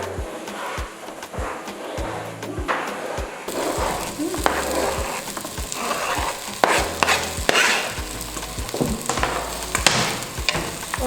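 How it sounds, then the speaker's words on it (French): Vegetables tossed into a hot pan for beef tortillas, sizzling steadily with repeated stirring clatters and scrapes, loud and close, with no talking. "Donc maintenant, on va mettre les légumes"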